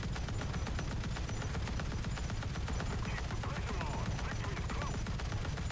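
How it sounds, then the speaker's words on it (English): Rapid, continuous .50-caliber machine gun fire from a ship in World of Warships, a dense unbroken rattle of shots that stays loud and steady throughout. "I'm showering you with 50 cals!"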